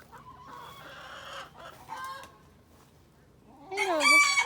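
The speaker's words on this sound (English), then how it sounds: "Oh, there's a rooster." A rooster on Galiano Island crows loudly near the end, a long wavering call following quieter clucking and bird sounds earlier on.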